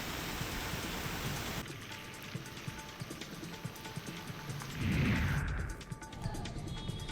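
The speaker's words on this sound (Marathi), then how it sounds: "सातारामध्ये मुसळधार पाऊस सुरू आहे" Heavy monsoon rain pours down in Satara, a dense, steady hiss of a downpour on surfaces, fairly close, with a brief louder surge partway through.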